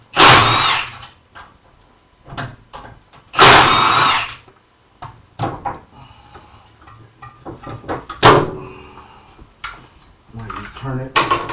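A power impact wrench on a Harley-Davidson motorcycle under rebuild fires in several loud, broadband bursts while it takes off a floorboard, with quieter clanks and handling noises between them. A person speaks briefly in the gaps.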